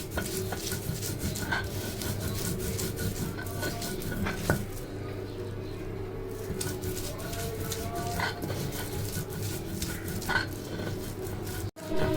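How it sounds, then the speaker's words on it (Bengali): Onion, garlic and dried chili are ground into a paste for a bhorta, a steady scraping and grinding rasp that continues for the whole stretch with soft clinks and knocks, close and fairly loud, with no talking. "এখন কিছু সময় ধরে একটু ভালোভাবে বাটতে হবে যেন ভালোভাবে সবকিছু পেস্ট হয়ে যায়।"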